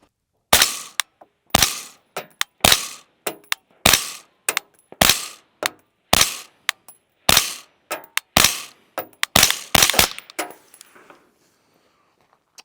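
HPA airsoft gun, a Radical Defense CS5 or LS5, firing about fifteen sharp single shots in an uneven rhythm, loud and close, each a crisp crack with a short tail, then stopping near the end.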